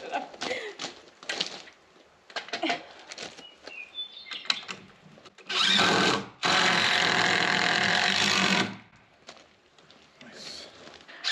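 Power screwdriver driving screws into wooden garage wall framing on an off-grid home build, with a sustained loud whirring burst of about three seconds after short intermittent bursts and clatter.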